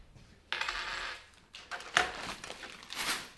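A handful of coins drop and clatter onto a hard surface in several bursts, metallic jingles rising and falling over about three seconds, close and fairly quiet, with no voices.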